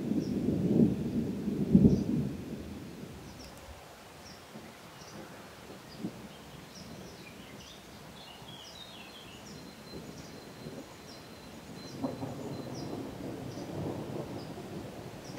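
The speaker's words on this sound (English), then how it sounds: "A thunderstorm is building." Low rolling thunder rumbles at the start and again near the end over a soft hiss of rain in Provence, with faint bird chirps in between.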